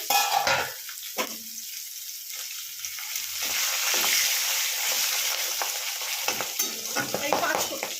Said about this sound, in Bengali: মাছের তেলটা একটু ঢাকা দিয়ে দিয়ে আগে হয়ে যাক, একটু ভেজে ভাজা হয়ে যাক